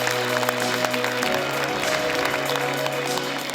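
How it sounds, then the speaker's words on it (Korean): An audience at a forum on next-generation nuclear reactors gives a round of applause in thanks, a steady, moderately loud clapping over a faint background hum. "자리에 계시진 않지만 감사의 박수 부탁드리겠습니다."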